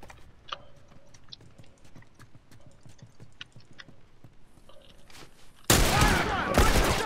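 Gunfire from The Last of Us multiplayer, with scattered sharp clicks and small pops before a loud, dense volley of burst fire breaks out near the end, close and dominant.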